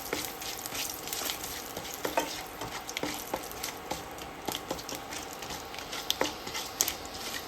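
Bay leaf and panch phoron spices frying in hot oil in a home kitchen, a soft steady sizzle with scattered crackles and pops, faint and close.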